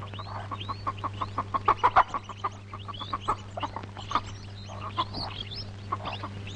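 Chickens in a village in Velankanni cluck steadily, with short, choppy calls repeating in quick bursts. A few squawks stand out over a low background hum.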